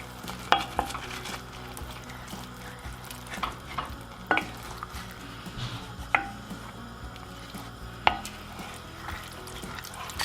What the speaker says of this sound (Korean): 그리고 진짜 리조또를 만들듯 계속 저어주세요.